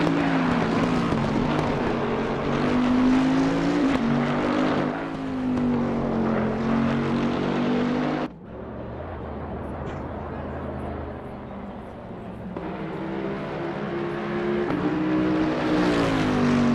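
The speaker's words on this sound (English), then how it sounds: "car sounds a bit too loud" Race car engines in an Imola racing video game, loud and continuous, with a high revving whine that shifts pitch through gear changes and drops abruptly to a lower drone before climbing again.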